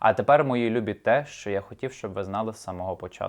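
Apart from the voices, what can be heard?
No distinct noise like a dog, phone or traffic.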